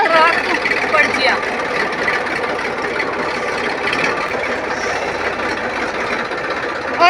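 A tractor engine runs steadily at a farm field, a constant throbbing drone with voices talking loudly over it.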